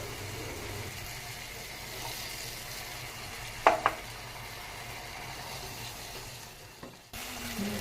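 Green peas tipped into a pan of salted, well-cooked spices for a winter cabbage dish, giving a steady low sizzle with a pair of sharp clatters midway and a brief dip near the end, no voices.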